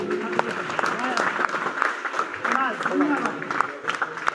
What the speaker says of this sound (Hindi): बहुत जोरदार ताली दीजिए